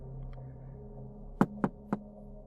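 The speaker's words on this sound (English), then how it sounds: "we heard a soft knock at my front door" Three soft, spaced knocks on a door, close by, over a low steady hum in an otherwise quiet room.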